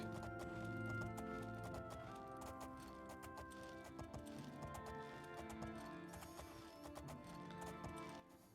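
Rhythmic clip-clop of horse hooves trotting in the game Oblivion over layered game music, steady footfalls running throughout at moderate volume.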